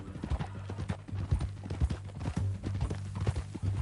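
Horse hooves clip-clop steadily in Red Dead Redemption 2, a close, continuous rhythmic patter with a low hum beneath and a brief whinny-like sound partway through.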